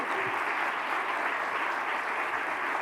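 Audience at a national medical conference applauding a guest speaker, a steady continuous wash of clapping throughout with no talk over it.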